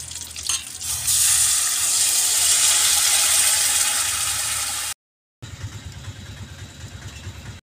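Water poured into a pan of village-style stuffed brinjal curry with spiced gravy, giving a loud, steady hiss and sizzle that runs for several seconds, cuts off briefly, then resumes a little quieter.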